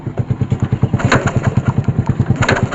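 A motorcycle that has spark at the plug but will not start is kick-started, giving a rapid, rhythmic mechanical thudding close by that churns without catching into a steady run.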